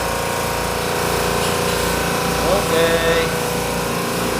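Ship's engine runs steadily in the engine room, a loud constant drone with a low rhythmic pulse throughout, while a person speaks briefly over it.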